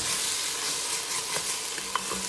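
Ingredients fry in hot oil in a pan, a loud continuous sizzle with small pops and a sharp utensil tap near the end, heard close up without any talking.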